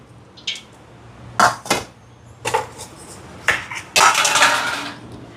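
Chopped carrot, shallots and green chilli drop into a bowl for uthappam, giving several separate clattering, rattling impacts of vegetables and a utensil against the dish, close by with quiet gaps in between.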